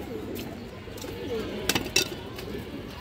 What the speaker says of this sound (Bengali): এটা মাদি কবুতর দর্শক, এটা নর কবুতর।